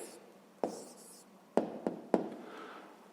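A pen writes an answer on paper up close, a quiet scratching broken by a few sharp taps spaced about a second apart.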